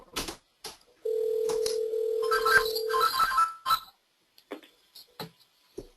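A telephone on an outgoing call gives a steady, continuous ring tone for about two seconds, followed by scattered short electronic beeps and clicks, heard alone with no talk.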